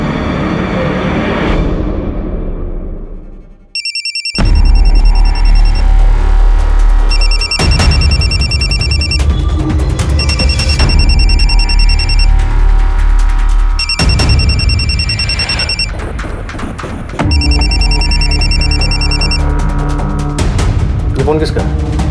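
A phone rings in a house during a police questioning scene from a Hindi crime drama, repeated electronic ring bursts in clear rhythmic pulses, loud and close, with people talking around it.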